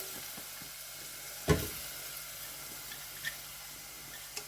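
Chopped garlic toasts in a frying pan with a soft, steady sizzle and hiss, quiet and close, with a single louder crackle and a few faint ticks.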